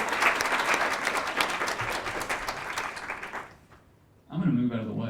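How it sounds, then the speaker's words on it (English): Audience applause at a volunteer recognition event: a steady wash of clapping for about three and a half seconds that fades out, then a voice speaks. "feel free to applaud"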